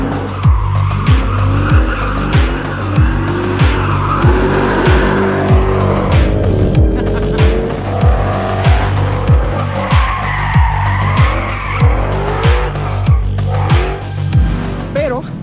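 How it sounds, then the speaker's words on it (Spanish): A Ford Shelby GT500 drifts with its tires skidding and squealing in long repeated screeches, over a loud, roaring V8 engine that revs up and down in pulses, close and intense throughout. "También es un coche que puedes poner de lado sin ningún problema si eso es lo que quieres"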